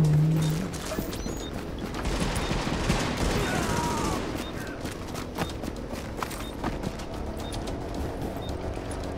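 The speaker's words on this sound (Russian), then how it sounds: "Кто-то стреляет, не пойму, блин." Gunfire in Tom Clancy's The Division, a continuous dense wash of shots and rattling combat noise throughout, with a voice briefly talking over it.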